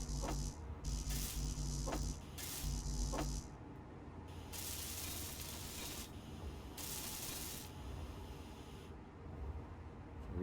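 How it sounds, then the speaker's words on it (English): Welding in the game Space Engineers: repeated bursts of harsh hissing spray, several short pulses followed by longer sustained stretches, close and fairly loud. "So I'll just weld these up."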